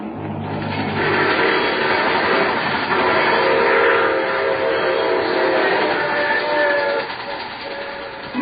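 Steady rumble and clatter of a running train, used as a sound effect in an old radio mystery drama, loud and continuous throughout with faint background voices.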